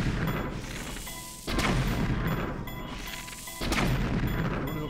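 Two deep, booming explosions in Breath of the Wild land a couple of seconds apart during a pushing trial. Each is a sudden loud burst that trails off into a rumbling decay.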